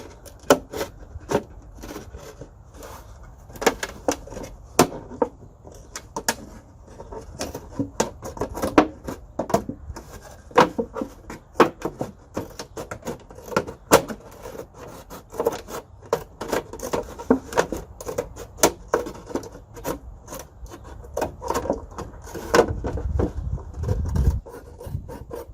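Scissors cut around a plastic jug for winter sowing, making a long run of close, scratchy snips and rasping plastic scrapes in an irregular rhythm, with no talking over them.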